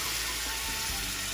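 Pineapple and its juice hitting a hot pan with onion, garlic and ginger, a dense steady hiss and sizzle close up, continuous for the short moment.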